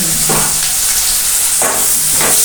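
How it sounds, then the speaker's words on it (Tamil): Onions for kottu roti frying in a pan, giving a steady close hiss and sizzle throughout with brief louder bursts of stirring, with no voices. "வெங்காயம் தான் நிறைய நேரம் பொறிஞ்சு கொண்டிருக்கேன்"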